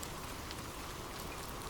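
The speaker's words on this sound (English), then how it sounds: "The sound of abundant rain." Heavy rain falling in a dense, constant hiss, steady and enveloping with no pauses, heard alone without any voice.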